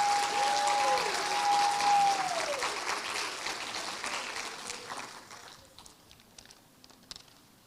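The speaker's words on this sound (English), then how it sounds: "Let's give a warm round of applause to all of our Honeywell Leadership Challenge Academy graduates." An audience applauds graduates at a leadership academy graduation ceremony in a theater, a broad wash of clapping that starts full and gradually thins out to a few scattered claps, with a faint sustained tone at the start.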